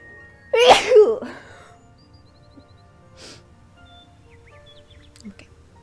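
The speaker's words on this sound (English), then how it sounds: "I need to sneeze." One loud, abrupt sneeze bursts out near the start, followed by quiet room noise and a few faint small sounds, during play of the video game Star Stable.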